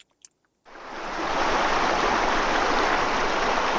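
Water rushing and gurgling steadily near a bridge-like crossing, sounding like a small waterfall; after a brief quiet start it swells into a loud, continuous wash.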